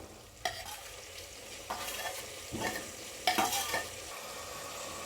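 Dried fish frying with tomatoes in a pan, a low continuous sizzle broken by several scraping stirs of a spatula, close by with no voices.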